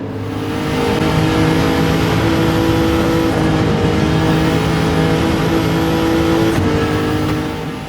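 A Lexus SC430 with an 800pp tune races in Gran Turismo 7, its engine holding a loud, steady high-revving drone with a brief shift dip near the end before fading slightly.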